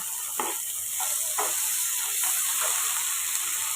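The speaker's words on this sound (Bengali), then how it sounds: "পেঁয়াজগুলো জাস্ট একটু নাড়াচাড়া করে এবার দিয়ে দেবো আমি ক্যাপসিকাম।" Onions and capsicum sizzle in a hot pan as sweet corn Manchurian is cooked, with a steady close hiss broken by several short scraping stirs.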